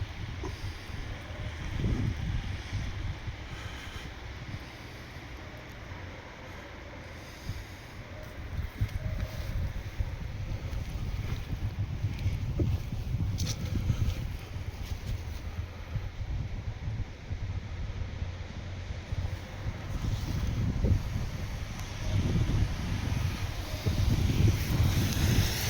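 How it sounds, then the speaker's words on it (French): Gusty wind buffets the microphone outdoors by an old bridge in Nemours, a continuous low rumble that swells and surges throughout with no one speaking. "Désolé, le vent se lève."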